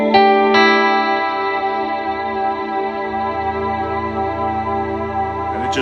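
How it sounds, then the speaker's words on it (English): A sustained electric guitar chord rings out through a reverb pedal's long, washy ambient reverb, swelling and hanging like a synth pad, with a fresh strum near the end. "technically it's a reverb pedal, but it's got this really cool like extended reverb"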